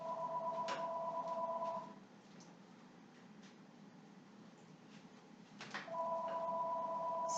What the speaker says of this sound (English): I forgot to move my phone. And the answering machine will come on it, and it does not turn down either